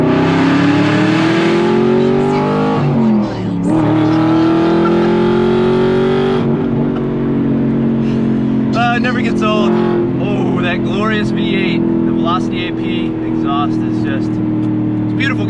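A car on a car club charity cruise in Lorton, Virginia, engine droning and shifting up under steady cabin noise, near and loud, with people talking over it.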